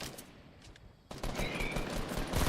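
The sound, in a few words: gunfire shooting at player in Fortnite video game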